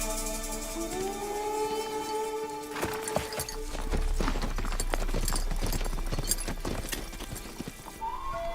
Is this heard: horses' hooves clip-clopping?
yes